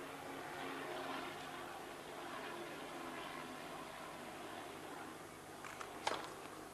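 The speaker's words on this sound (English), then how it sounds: "It must be fairly windy up there for that little plane too." Faint, steady drone of a small propeller plane overhead on a windy, blustery day at a tennis match, mixed with broadband wind-like noise, with a brief louder rustle near the end.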